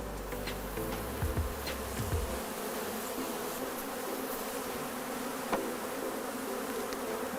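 Honeybees swarm around honeycomb frames taken from hives, a dense steady buzz filling the space throughout, with a few louder passes of individual bees near the start and no talk.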